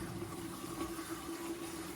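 Water runs steadily through a Rheem tankless water heater, a constant rushing flow with a low hum, even and unbroken for the whole stretch.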